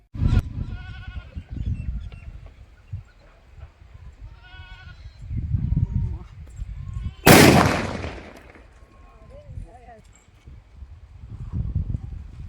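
A large Diwali firecracker bursts with one sharp, very loud bang amid quiet outdoor rustling, and goats bleat now and then before and after.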